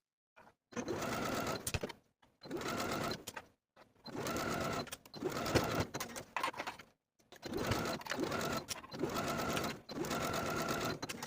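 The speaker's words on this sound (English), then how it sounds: "stitch the binding with a 3/8 inch seam allowance for the front and back bodice pieces" A sewing machine stitches binding onto the front and back bodice of a romper, running in six short bursts of steady rapid whirring separated by brief pauses, close and clear.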